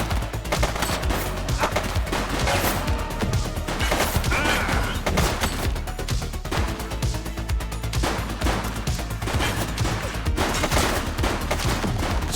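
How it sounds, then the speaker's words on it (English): Sustained, dense gunfire from the police video game The Precinct, rapid bursts and volleys layered over a loud, continuous game soundtrack throughout, with no pauses. "He's shooting!"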